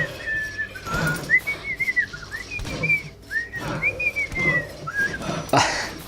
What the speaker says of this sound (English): I think I'm just gonna whistle annoyingly for the next 4 minutes of this video